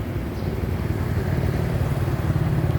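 A Honda Wave 125i motorcycle with black alloy wheels pulls away from a dealership, its small engine holding a steady, close, low hum throughout.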